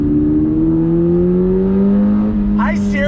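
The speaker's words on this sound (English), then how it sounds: "Great heel toe downshift" A 2022 Subaru BRZ engine hums steadily close by, its note slowly climbing and then sharpening as a quick heel-toe downshift blips the revs near the end.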